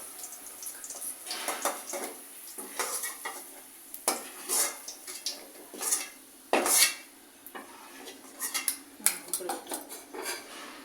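Peanuts are stirred into tomato chutney in a metal pan, a spoon scraping and clinking against the pan in irregular bursts over a faint background sizzle, close and clear with no talking.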